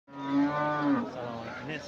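A bull calf at a livestock bazaar gives a single close, drawn-out moo with a rich harmonic tone that wavers and trails off, standing alone without talk.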